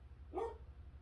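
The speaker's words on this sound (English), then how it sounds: "The dog started barking." A single short dog bark rings out once, fairly close, over a steady low hum in an indoor room.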